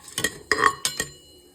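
Biryani spices, bay leaf, cloves and cinnamon being sautéd in oil in a pan, heard mostly as four quick scrapes and clinks of a spoon against the pot, close and clear, over a faint sizzle.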